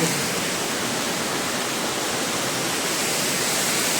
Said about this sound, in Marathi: हवा आहे ना जोरात पाणी पण आतमध्ये येते